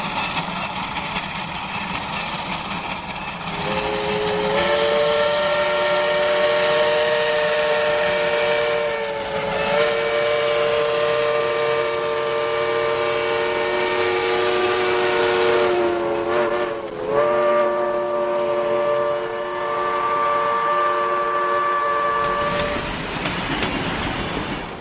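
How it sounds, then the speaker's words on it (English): Sierra Railroad No. 2, a steam locomotive, works a train uphill toward Fassler, its whistle sounding in long sustained blasts over a steady chuffing and rumbling rail noise, loud and near. "the No. 2 puts on a fine performance as it makes its way towards Fassler"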